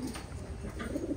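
A male domestic pigeon cooing in a low, soft, repeated rolling call, close and fairly quiet, with no talk.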